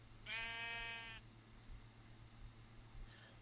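A single loud wavering sheep bleat from Minecraft, close and clear, followed by quiet background clicks and a faint second bleat at the end.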